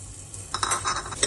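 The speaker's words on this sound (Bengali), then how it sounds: "ওইদিকে মাছের মাথাগুলো ভাজা হতে হতে আমি এখানে ডালগুলো ছেড়ে দিচ্ছি, একটু ফ্রাই করে নেব মুগ ডালটা" Moong dal dropped into a pressure cooker to fry, a brief clatter of lentils and metal with a faint sizzle beginning midway, close and short, with no voices.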